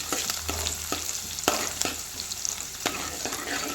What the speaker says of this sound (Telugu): దీన్ని కూడా మంచిగా నూనెలో వేయించుకోవాలి.